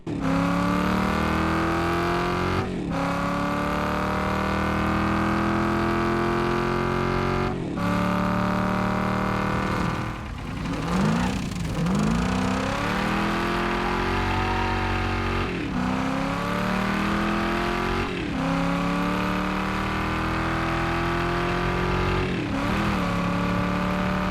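A car engine in the video game Wreckfest 2 revs continuously, climbing in pitch and dropping back with each gear shift, loud and steady with no voices.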